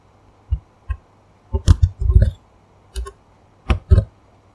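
Computer keyboard keys pressed as shortcuts in the ZoomIt presentation tool, heard as close, sharp clicks in short irregular bursts of single and clustered taps with quiet gaps between.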